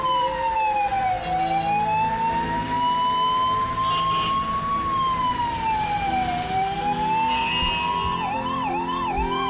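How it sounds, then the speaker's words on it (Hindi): An ambulance siren wails loud and close, a long rising and falling tone that shifts into a faster warbling yelp near the end, with road traffic underneath. "11:15 बजे एम्बुलेंस चल पड़ी।"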